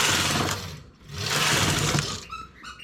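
A knitting machine carriage sweeps across the needle bed knitting a row of stockinette in plain knit on tension setting 6, giving two loud, steady whirring passes with a short dip between, then lighter clicks at the end.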